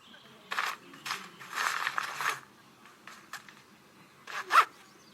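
A zipper on a tent bag is drawn open in several short and long pulls, close and fairly quiet, with a sharper zip near the end.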